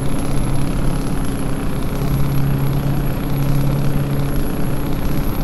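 Mack Ultraliner truck engine in American Truck Simulator, a steady low droning rumble with a sustained hum that holds evenly throughout, loud and close with no voices.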